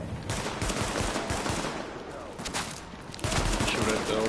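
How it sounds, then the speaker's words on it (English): Rapid gunfire aimed at an enemy turret in The Division, a dense, steady stream of shots over a noisy battle mix, with a louder burst near the end. "Okay, I shot the turret, but there's an ultra right next to it."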